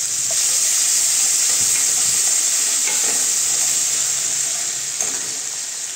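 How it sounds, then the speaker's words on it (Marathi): A paste of garlic, green chili, coriander and ginger fries in oil in a pan, a loud, continuous hissing sizzle that slowly eases toward the end, with a few faint stirring knocks and no voices. "तेल घातल्यानंतर ह्यात आपण लसूण, मिरची, कोथिंबीर आणि आल्याचं वाटण घालूया"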